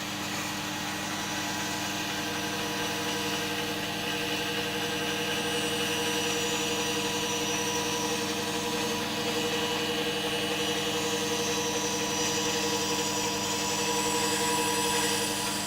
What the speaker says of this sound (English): This is what a disc sander's for.